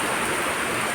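Heavy rain pours down in Mangaluru, a steady dense hiss filling the air without pause, close and loud throughout with no voices.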